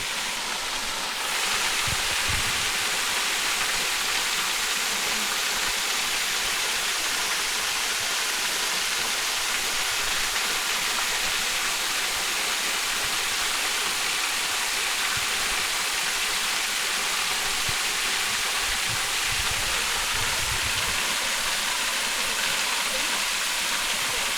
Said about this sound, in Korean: 종전 폭포고요 수량이 생각보다 많이 있네요